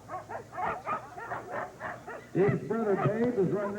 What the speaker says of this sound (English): he's driving 16 dogs